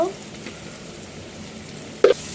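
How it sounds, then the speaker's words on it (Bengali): Curry spiced with ginger-garlic paste, turmeric and chilli powder frying in a pan while being stirred, a soft continuous sizzle with one sharp scrape near the end, close and fairly quiet. "ভালো করে নাড়াচাড়া করে নিচ্ছে"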